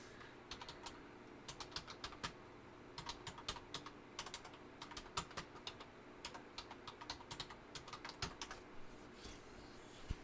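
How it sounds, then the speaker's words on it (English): Quiet typing on a computer keyboard while entering a book title, with steady clusters of fast light keystrokes over soft background hum. "And then I'm going to type in Original Wisdom book."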